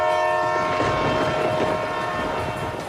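An express train, the Antyodaya Express, rumbles past with steady, continuous wheel and carriage noise and a sustained tonal horn-like hum, fairly loud and even throughout, with no talking.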